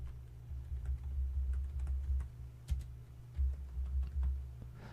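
Steady typing on a computer keyboard while entering figures for a computerized tax accounting exam problem, producing a quick run of soft, close key clicks over a low background hum, with no talking.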